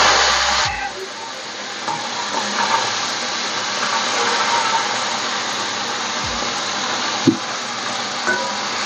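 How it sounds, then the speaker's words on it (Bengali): Prawns fry in hot mustard oil with a loud, steady sizzle and hiss. A few clinks and knocks from stirring come through, and there is no talk over it. "প্রথমে আমি চিংড়ি মাছগুলো ভেজে নেব,"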